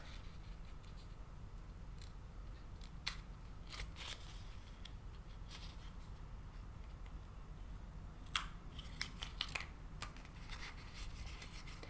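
Scissors trimming the edge of an embossed paper Christmas ornament: sparse, quiet snips and small paper rustles, close and faint against a soft background hiss.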